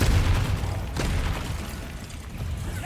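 Confringo fire-blast spell in Hogwarts Legacy going off during a spider fight, a few loud low booms and bursts over rumbling game noise, no voices.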